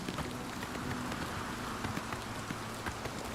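Rainfall in the game Oblivion, a continuous dense patter of drops with scattered sharper ticks over a steady hiss, with no talk.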